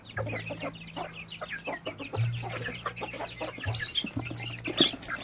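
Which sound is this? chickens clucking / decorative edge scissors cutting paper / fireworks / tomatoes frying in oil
chickens clucking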